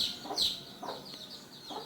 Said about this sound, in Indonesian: Anak ayam yang terus ada di tangan saya.